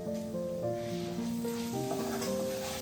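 Minced meat sizzles steadily in a pan with vegetables while being stirred, a continuous close frying hiss with occasional scraping.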